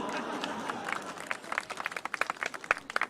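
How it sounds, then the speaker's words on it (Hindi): A crowd at a Jaipur comedy laughter night starts clapping, faint at first and then building into a scattered, uneven patter of hands over a soft murmur of the audience. "जब तक सारे लोग तालियां नहीं बजाओगे यही लाइन सुनाता रहूंगा।"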